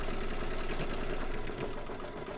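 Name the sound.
embroidery machine sewing a zigzag stitch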